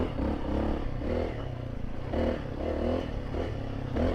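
A Honda CRF300L motorcycle with an aftermarket exhaust is blipped on and off the throttle, its close, rumbling exhaust note rising and dropping in a few repeated pulses.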